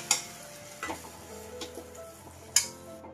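Egg mittai batter simmers in a pan, with soft bubbling and sizzling under a few sharp scrapes and clicks as it is stirred. The sound is quiet and close.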